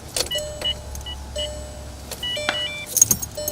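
Valentine One radar detector hardwired in an MK6 car sounding its alert, a series of short, bright electronic beeps and tones in a quiet cabin, with a faint low hum and a few clicks, no talking.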